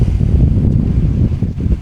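Strong wind on a sailboat buffets the microphone in heavy, rumbling gusts that fill the whole moment, with no voices.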